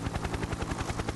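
A helicopter in the military shooter game Exfil, its rotor chopping in a fast, steady rhythmic thump, loud and close, with no talk over it.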